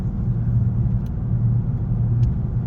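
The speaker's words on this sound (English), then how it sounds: "can you hear the road noise?" Steady low road rumble and engine drone inside a small moving Nissan truck, continuous and even in level, with a couple of faint ticks and no talking.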